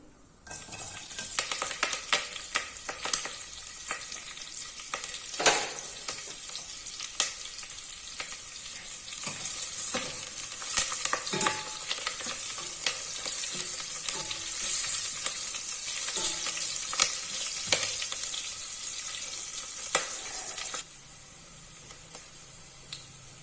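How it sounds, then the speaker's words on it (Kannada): Mustard seeds popping and spluttering in hot oil for a radish saaru, then curry leaves, onion and garlic added with loud steady sizzling and occasional stirring clinks close up, quieting at the end. "ಸಾಸಿವೆ ಸಿಡಿತಾ ಇದೆ. ಕರ್ಬೇವಿನ ಸೊಪ್ಪು, ಸ್ವಲ್ಪ ಈರುಳ್ಳಿ, ಬೆಳ್ಳುಳ್ಳಿ ಹಾಕ್ತಾ ಇದ್ದೀನಿ."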